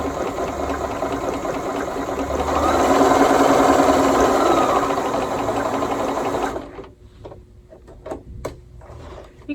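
A Bernina Series 3 sewing machine stitches a pin stitch with a steady, fast mechanical whir and needle clatter for about six and a half seconds, then stops, leaving a few quiet clicks and taps.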